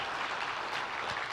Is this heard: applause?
yes